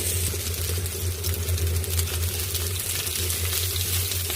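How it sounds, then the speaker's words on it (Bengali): Onions and chillies sizzle steadily in a hot pan, a continuous close frying hiss with no talk over it. "এখন পেঁয়াজ মরিচ ভেজে নেব"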